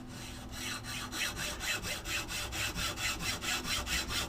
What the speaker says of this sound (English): little hacksaw.